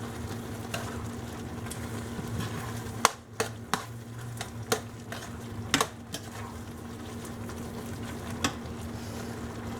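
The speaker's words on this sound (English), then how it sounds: "now we are going to add our cauliflower and let all of this cook" Cauliflower and potatoes cook in a pav bhaji pan with a low, steady sizzle under a faint hum, broken by a few sharp spoon clinks and scrapes against the pan.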